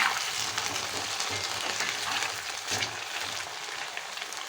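Vegetables frying in a pan in a Kerala home kitchen, a continuous crackling sizzle with occasional stirring scrapes, close and steady throughout.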